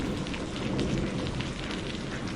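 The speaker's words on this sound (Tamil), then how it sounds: "இம்மா வெளியே என்ன மழை பெய்யி?" Heavy rain pouring steadily onto surfaces outdoors, dense and close, with a low rumble of thunder running beneath the downpour and no voices.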